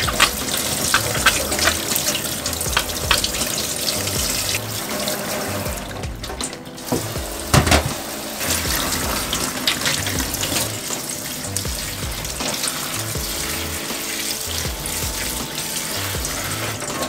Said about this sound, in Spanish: Primero lava los dos ingredientes